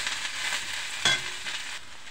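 Leafy greens (saag) frying in a pan, giving a steady soft sizzle throughout with one brief louder stir or scrape near the middle and no voices.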